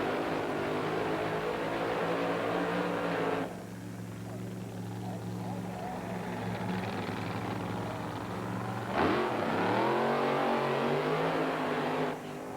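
Drag racing cars roar through burnouts at the starting line of the 1995 NHRA Sears Craftsman Nationals, with loud engine rises and a revving surge near the end. A commentator talks over the noise.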